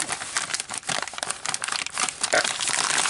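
Tape being ripped and torn by hand while assembling a model X-Wing sublight engine, a dense crinkly tearing with rapid irregular crackles running continuously at close range, no talk.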